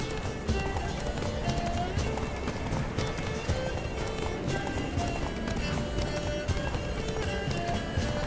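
Steady hoofbeats of a galloping horse in the video game The Witcher 3 pound on without pause, with faint voices and background sounds mixed underneath.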